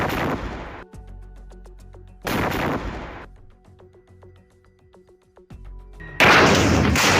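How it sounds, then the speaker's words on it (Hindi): A tank blowing apart in war footage from the Israel–Hamas conflict in Gaza, with loud bursts of blast noise and crackling gunfire that come and go between quieter, ringing stretches, with no talk. "इसके कुछ ही सेकंड में टैंक में एक बहुत बड़ा ब्लास्ट होता है और टैंक आग के गोले में तब्दील हो जाता है"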